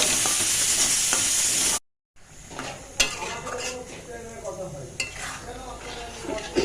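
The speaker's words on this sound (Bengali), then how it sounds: "এবার দিয়ে দেবো আগে থেকে ডিম ভুজিয়াটা, এটা করে রেখেছিলাম। ভালো করে মিশিয়ে নেব।" Scrambled egg is stirred into fried masala in a pan for dal tarka; a spatula scrapes and clinks against the metal over a soft sizzle, after a brief cut to silence.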